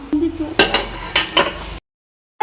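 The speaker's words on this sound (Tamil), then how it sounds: "சாதம் நல்லா உதிரியாக ஆகிற வரைக்கும் நல்லா நம்ம கிளறிக்கலாம்" A spatula scrapes and stirs fried rice in a pan, giving three or four loud rhythmic scraping strokes close up, then a sudden silence before another brief scrape at the end.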